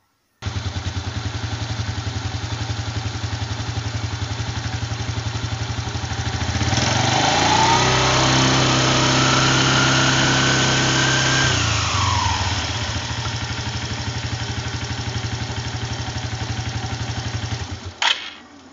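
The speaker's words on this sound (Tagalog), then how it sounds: "paandarin natin yung makina sa same level of low RPM" A motorcycle engine with a CVT fitted with 17-gram flyballs idles steadily at low revs, rising briefly to a louder, higher whine in the middle before settling back, then cutting off at the end.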